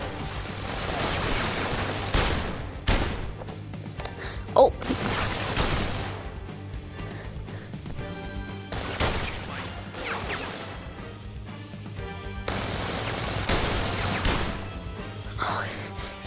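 Gunshots ring out in PlayStation VR Worlds London Heist, several sharp bursts spread across a busy game soundtrack with music and effects, while a voice talks over parts of it.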